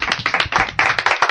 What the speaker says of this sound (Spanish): Un aplauso, Fena.